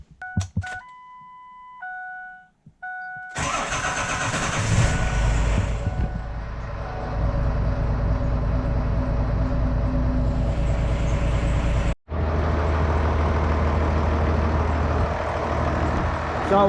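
A truck with a swapped-in Cummins diesel engine cranks and fires after a few short electronic beeps, then settles into a steady, loud idle while warming up, with one brief dropout midway.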